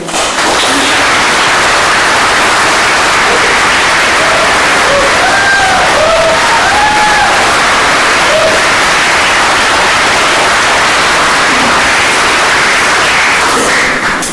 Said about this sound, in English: I would ask that we do not cheer members as they get up and speak